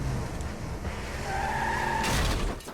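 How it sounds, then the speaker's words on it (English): A car skids and crashes in the point-and-click adventure game Technobabylon, heard as a sustained rising tire squeal over engine rumble, building to a louder burst near the end with no talking. "Crash the car, see if I care."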